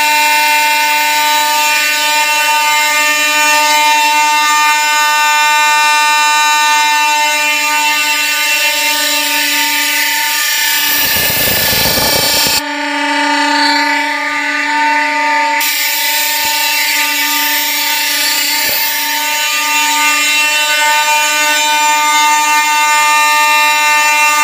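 A fire alarm system sounding continuously during a test: a loud, steady, harsh electronic buzzing tone held unbroken throughout, with a brief burst of clatter partway through and no talk.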